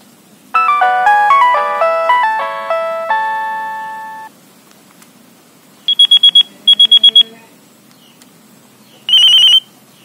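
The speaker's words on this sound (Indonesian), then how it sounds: "Di video kali ini kita akan nostalgia dengan ringtone Nokia 6610." Nokia 6610 mobile phone ringtones play loud and clean: a descending polyphonic melody of bright tones, then short bursts of repeated high beeping alert pulses separated by pauses.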